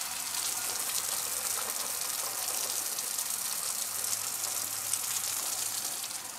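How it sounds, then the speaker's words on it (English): Water runs steadily from an expandable garden hose, a continuous broadband rush that stays even and fairly loud throughout with no talking. "Now this water is still running."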